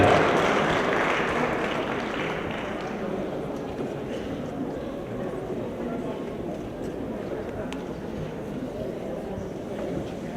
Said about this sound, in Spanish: Brindemos un fuerte aplauso a los panelistas